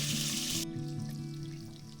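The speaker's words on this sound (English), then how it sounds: "This thing's bubbling like crazy." Baked potato eggs fry in plenty of bacon fat in a cast iron pan inside a hot camping tent. A loud crackling hiss cuts off abruptly, and softer bubbling continues over a low hum.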